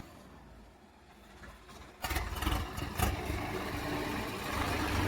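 A tractor engine rumbles into life after two quiet seconds, then keeps running loud and close with a rough, uneven broadband roar.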